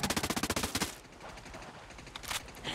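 Automatic gunfire in a Ghost Recon military game: a rapid burst of loud shots for the first second, then a rumbling explosive aftermath and scattered distant blasts, with no talk.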